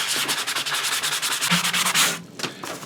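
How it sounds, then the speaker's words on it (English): Rapid back-and-forth rubbing of a sanding sponge on Bondo filler, close and steady, with a brief pause near the end. "now it's sanding this down with a sanding sponge to get it nice and smooth,"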